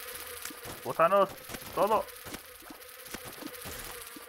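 A swarm of flies buzzes steadily in The Binding of Isaac: Afterbirth, a low, continuous insect drone that stays faint under the game's background while someone speaks two short phrases.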